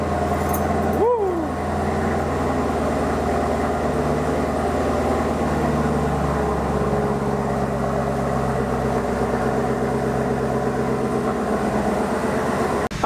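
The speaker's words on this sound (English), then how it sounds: "All right, people, time for a cold start." A Chevrolet Camaro ZL1 1LE engine cold-starts close by, settling into a loud, steady, deep rumbling idle that holds for the rest of the span, with a voice briefly over the start.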